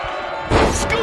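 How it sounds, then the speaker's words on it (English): Scoop slam in the WWE 2K19 wrestling video game: a loud thudding impact and a burst of crowd noise over steady arena ambience, brief and close. "Scoop slam!"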